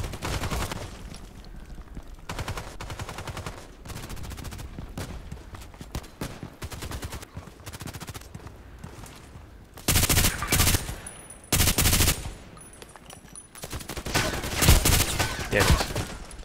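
Bursts of machine gun fire in the shooter game Contract Wars, a light machine gun rattling in long and short volleys with brief pauses between, loud and close.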